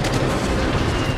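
Naval gunfire and explosions in World of Warships roar as a dense, continuous wall of booming battle noise, loud and close, with no pauses across a brief moment.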